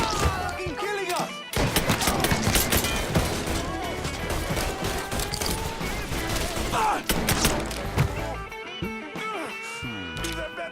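Gunfire in a shooter video game run on a gaming PC with an i7 8700K and GTX 1060: rapid bursts of shots, thuds and crashes fill the mix loudly, with excited players shouting over it.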